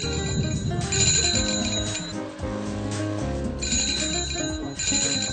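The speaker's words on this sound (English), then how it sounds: "so many locals pass through here that the bicycle bells never stop" Bicycle bells ring repeatedly on a busy local shopping street, bright metallic dings recurring in bursts over a thick layer of street bustle and tonal background sound.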